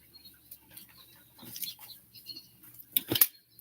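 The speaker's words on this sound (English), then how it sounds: "That's too much bird chirping." Birds chirping close by in a small, quiet space, with scattered short chirps and tweets, a few sharper louder bursts near the end, and faint rustling clicks, no talking.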